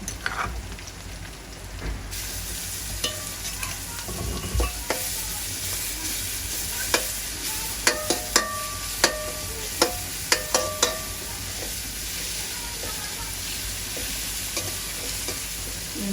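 Ginger and garlic sauté in a hot pan, giving a continuous loud sizzle with a run of quick metallic scrapes and taps from stirring partway through, close and with no talking.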